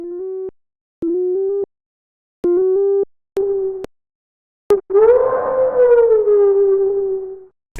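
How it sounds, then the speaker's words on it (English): Siren-like synth sound effect sample with edited pitch, first a series of short steady electronic tones in separate bursts, then a long rising-and-falling wail that sweeps like a police siren, loud and alone. "there's a sound effect that acts as a lead, and it's like a police siren"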